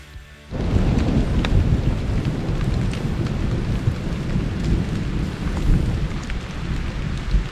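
Heavy rain pours steadily through a forest in a mountain storm, with thunder rumbling underneath, loud and continuous for the whole stretch after a brief quieter opening.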